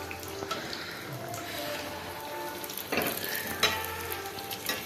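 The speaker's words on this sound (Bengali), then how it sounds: "এই দেখো ভাজা পিঠে ছাড়া হচ্ছে, মা ছাড়ছে দেখো" Rice cake pitha frying in hot oil, a steady close sizzle with a sharper burst of crackle around the middle and again near the end, as the cakes are dropped in and puff up.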